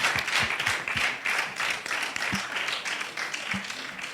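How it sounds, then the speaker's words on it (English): An audience claps at a youth forum TVET competition, steady applause with a few louder cheers and low thumps mixed in across the short stretch. "Another round of applause for him, please."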